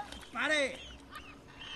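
A goose in a group gives one loud, nasal honk, close by and drawn out, followed by fainter, shorter calls.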